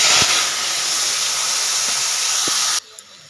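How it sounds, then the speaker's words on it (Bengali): Vegetables for a greens curry are tipped into hot oil tempered with fried garlic, setting off a loud, steady sizzling hiss that runs for a few seconds and then cuts off abruptly, with no voices. "ফোড়নটা হয়ে গেছে এখন সবজিটা এবার ঢেলে"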